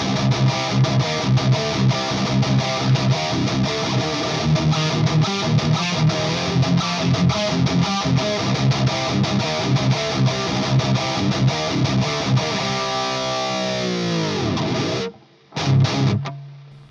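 Dense, saturated electric guitar chords with a gritty overdriven amp tone through paired SM57 mic impulse responses, played steadily and loud, then a sustained chord fading out before a brief final stab.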